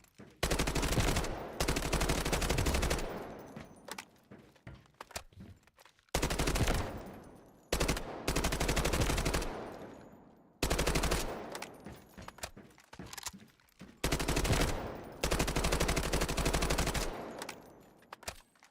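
K416 rifle fired in a video game in four long bursts of rapid automatic gunfire, loud and close, each burst separated by a short pause.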